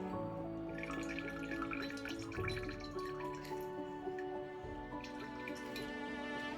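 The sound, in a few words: straining cleavers herbal tincture, liquid dripping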